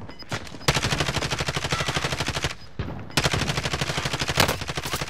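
Enemy automatic gunfire in a video game, rapid bursts of shots in two long volleys separated by a brief pause, loud and dense.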